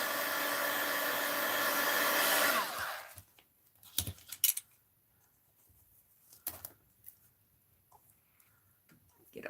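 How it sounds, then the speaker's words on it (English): A heat gun used on a mixed-media art journal page blows with a steady roar for under three seconds, then cuts off, leaving a few faint clicks and handling noises in near quiet. "This heat gun gets pretty hot."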